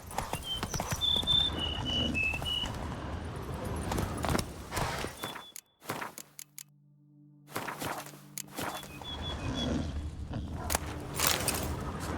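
Hooves of the horse Roach in The Witcher 3: Wild Hunt clip-clop steadily at a walk, loud and close, pausing briefly midway before the footfalls resume alongside game ambience and a low hum.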